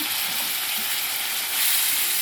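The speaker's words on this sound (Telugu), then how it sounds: "ఇవి త్వరగా వేగుతాయి." Steady, loud sizzling and crackling of ground vegetable paste frying in hot oil with salt, with no talking.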